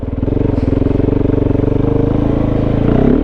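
A Kove 450 dual sport motorcycle with a Dominator exhaust, off-road airbox and 230.1 tune runs close by with a loud, steady, pulsing engine rumble that holds an even throttle the whole time.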